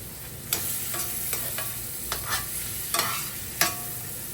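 Ground spice masala of red chilli powder, turmeric and salt with a little water, stirred and fried in a pan: steady sizzle broken by several sharp spoon scrapes and clinks at irregular intervals, close and alone without talk.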